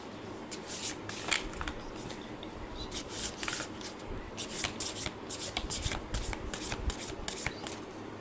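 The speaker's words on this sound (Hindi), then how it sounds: "तो मेन वाइल में कार्ड शफल करूँ" Tarot cards shuffled by hand, a close run of crisp riffling and flicking bursts with short pauses between them, and no voices.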